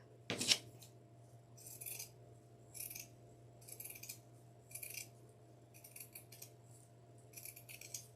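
Scissors snip through burlap in a steady series of about eight crisp, close cuts over a low steady hum. One sharper knock comes first.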